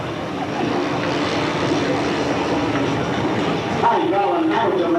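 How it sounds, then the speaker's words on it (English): A turbine-powered F80 model jet arrives for landing, its engine a steady, loud broadband roar with a whine that shifts pitch near the end, sustained throughout. "makes a safe arrival with the turbine F80"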